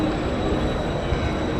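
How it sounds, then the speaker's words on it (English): A traditional Basel city tram passes close by with a steady, loud rumble of wheels on rail and a faint high squeal, continuous throughout. "And also the traditional trams from Baselworld."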